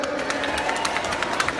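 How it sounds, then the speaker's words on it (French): A concert crowd at a live konpa music night, La Nuit du Konpa 2017, breaks into applause and cheering: a dense, continuous wash of clapping and shouts from a large audience. "Applaudissez-vous, s'il vous plaît."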